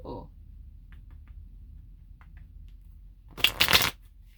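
Tarot cards shuffle in a short burst of riffling near the end, preceded by a stretch of quiet with a few faint taps.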